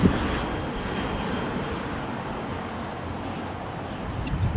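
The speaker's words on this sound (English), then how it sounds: "Just taking off here on the 25s, we have Alaska Airlines Flight 713 to LAS, Las Vegas, Nevada." An Alaska Airlines Boeing 737-800 takes off from LAX, a steady broad jet engine roar heard from a distance, level and continuous throughout, no voices.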